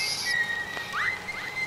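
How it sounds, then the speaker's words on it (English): Short whistled melody in Bendy and the Ink Machine, a few clear tones and upward swoops, fairly close and alone without talk. "Mickey Mouse, you can stop whistling now."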